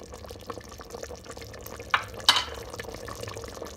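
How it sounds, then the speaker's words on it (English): Short rib gravy bubbles and pops gently in an Instant Pot, a soft continuous simmer with a couple of sharper pops partway through. "Still kind of bubbling there for a minute or two."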